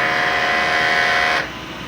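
Sublimation printer running a head-cleaning cycle: a loud, steady mechanical whir and hum that holds for over a second, then cuts to a quieter residual drone.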